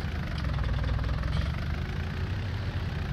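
Loader tractor engine in Farming Simulator 19 running with a steady, loud, low diesel rumble and rhythmic knocking throughout, with no talk.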